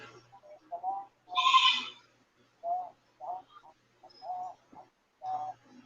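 A goat bleats several times in short, nasal cries spaced by quiet pauses, with one louder, longer call near the start.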